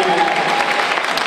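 Standing ovation from a grateful, mostly female audience at a concert, a dense, steady wash of clapping that stays loud and even throughout without pauses.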